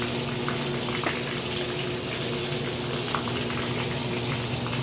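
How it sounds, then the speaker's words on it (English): A GE washing machine's small pump motor drains the tub, giving a steady watery rushing and gurgling hum that stays loud and even throughout, with no talking. "let's wait and see if it drains the entire tub this time."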